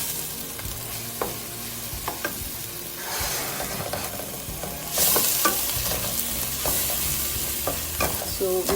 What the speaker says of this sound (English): So we'll saute the onions, the ginger, garlic and chili properly.